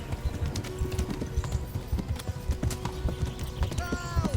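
Horse hooves clip-clop at a steady trotting pace in the medieval game Kingdom Come: Deliverance, a continuous close rhythmic clatter with light background ambience and a brief tonal sound near the end.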